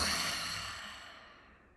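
A single long exhale during a guided breathing exercise, breath pushed out steadily through the mouth and trailing off over nearly two seconds, close and fairly soft.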